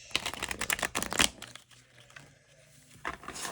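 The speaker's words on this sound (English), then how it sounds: "let me just shuffle." Tarot of Oppositions cards shuffled by hand close up, a brisk burst of crisp flicking and riffling followed by a quieter pause and a short second flurry.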